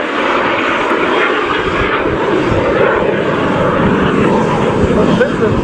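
Jet engine roar from a BAC Strikemaster flying an airshow display manoeuvre, a steady loud broadband rush sustained throughout with slight swells as the aircraft rolls and turns away.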